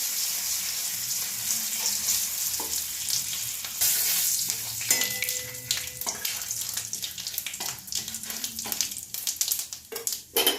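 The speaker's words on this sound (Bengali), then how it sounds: "তেজপাতা দেব আর একটু জিরে ফোড়ন দিচ্ছি" Bay leaf and cumin seeds sizzling in hot oil, a loud crackling spit that flares up, then settles into irregular pops and bursts near the end, close up and with no talking.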